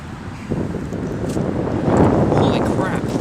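Wind buffets a camera microphone outdoors at a shop torture test, a rough, loud low rumble that swells in gusts over a few seconds.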